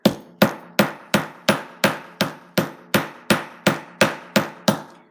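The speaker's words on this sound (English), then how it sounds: "So now let's hammer this." A hammer on a sculpting project: thirteen sharp, evenly spaced strikes close to the microphone, each ringing briefly before the next, with no one speaking.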